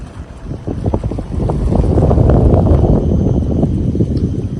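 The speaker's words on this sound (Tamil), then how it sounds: "இயற்கையான சவுண்டு வாட்டரோட சவுண்டு" Sea water washing along the shore at Coney Island beach in Singapore, a steady broadband rush that swells slightly mid-way, mixed with wind buffeting the microphone and no talk.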